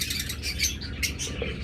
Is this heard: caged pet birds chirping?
yes